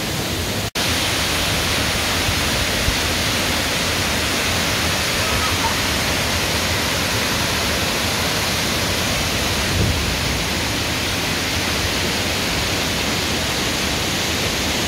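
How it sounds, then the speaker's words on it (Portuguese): Water plunges at the Salgadeira waterfall, a dense, even roar filling the whole scene without a break, loud and close. "As águas caindo aqui na cachoeira, realmente é fabuloso"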